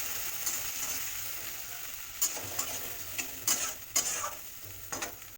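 Curry sizzling steadily in a pan as ginger-garlic paste, cumin powder and turmeric are stirred in, with a continuous close frying hiss broken by several sharp scrapes of the spoon against the pan.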